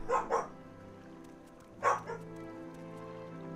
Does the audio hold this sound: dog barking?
yes